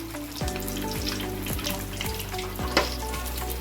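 Green chilies slowly frying in hot oil for village-style chinna bajji, a constant crackling sizzle with a repeating low rhythmic hum beneath, close and even throughout, one brief brighter pop near the end.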